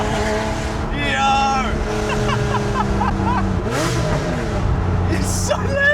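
A RWB Porsche 993 engine revs loudly nearby, rising and falling in pitch in a few bursts, with hissy rushes of noise between the revs.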